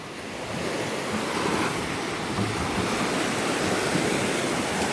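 Waves wash steadily onto a Lake Michigan beach of black sand and gravel, a continuous broad surf roar with some wind noise on the microphone and no voices.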